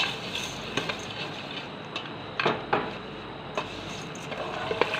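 A spoon stirs yogurt and sugar into cooked rice for a sweet zarda, giving soft scraping and occasional light clinks of metal against the pot, close and fairly quiet, with no talking.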